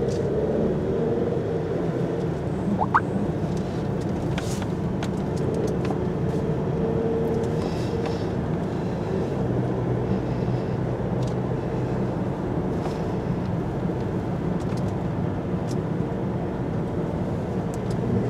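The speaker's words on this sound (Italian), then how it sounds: "Primo giro con lo Stelvio sul TT Assen" A Moto Guzzi Stelvio on its first lap of the TT Assen circuit, a continuous loud engine drone with steady road and wind roar throughout, no voices.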